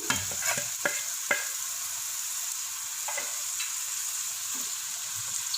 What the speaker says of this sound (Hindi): अच्छे से भून लेंगे